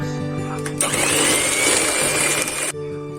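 An electric mixer whirs steadily for about two seconds, beating eggs with salt and sugar for chocolate pancake batter. It starts and stops abruptly, loud and close, over a faint background hum.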